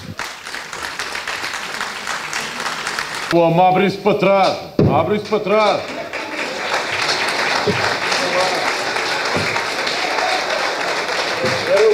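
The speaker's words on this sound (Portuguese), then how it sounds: "Vamos fazer silêncio e uma salva de palmas para eles." A carnival crowd applauds performers, with steady clapping running for several seconds. A voice calls out over the applause, and a loud burst of shouting or singing cuts in partway through.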